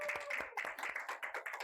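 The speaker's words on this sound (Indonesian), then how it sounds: "Mungkin boleh teman-teman untuk tepuk tangannya dulu nih buat Pak Aceh." A small audience claps for a guest on a podcast, a short, soft round of scattered hand claps with no talking over it.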